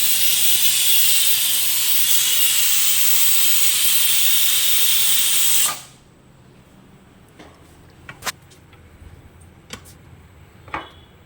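Pressure cooker venting steam after the stove is switched off, a loud steady hiss that cuts off abruptly midway, followed by quiet kitchen room tone with a few faint clicks.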